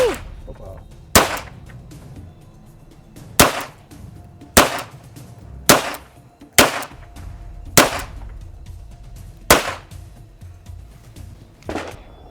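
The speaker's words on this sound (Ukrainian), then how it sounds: "Я починаю стріляти." Sharp, loud pistol shots fired one at a time at uneven intervals, about eight in all, with quiet room noise between them.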